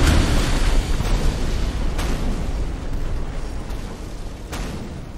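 A ship exploding in the film The Pirates (2014), a dense, loud roaring blast that keeps rumbling with crackling debris, with a few sharper bursts at roughly one-second intervals and no speech.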